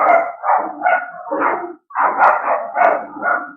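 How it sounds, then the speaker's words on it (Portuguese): Several dogs bark in quick overlapping bursts, loud and close, with a brief pause midway before the barking resumes. "Agora são 3 cachorros."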